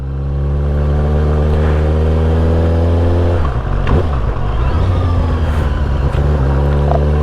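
Supersport motorcycle engine running steadily with a brief dip as a gear is caught, then pulling on under throttle; loud and close, no talking.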